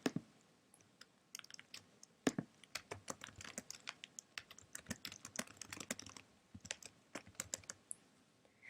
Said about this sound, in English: So let's type that into the search bar.